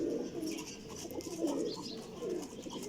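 A flying pigeon of the Ustad Dilawar Khan line, kept in a cage, gives repeated throaty coos in three rolling phrases, near and moderately loud, with light chatter of other birds behind and no talking.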